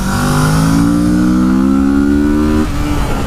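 A 2017 Kawasaki Z650 motorcycle engine revs up loudly and steadily under hard acceleration in second gear, pitch climbing for over two seconds before dropping as the rider shifts or eases off.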